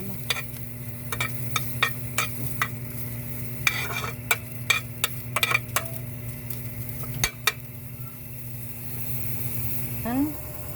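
Food browning in frying oil while a utensil clinks and scrapes against the pan in sharp, irregular strikes over a low steady hum and a light sizzle.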